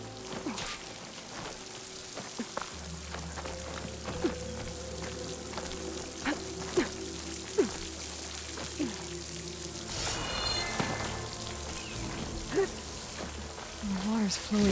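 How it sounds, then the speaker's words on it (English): Steady rushing water in Horizon Forbidden West gameplay, a continuous broadband wash like a waterfall or stream, with game music and effects layered over it and a brighter splashing burst near the end. "Where is this water coming from?"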